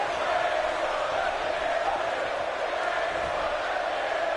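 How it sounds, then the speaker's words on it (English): Arena crowd in the WWE 2K18 wrestling video game cheering for Bray Wyatt, a dense steady roar of massed voices that holds at constant loudness with no clear peaks. "And the crowd supporting Bray Wyatt."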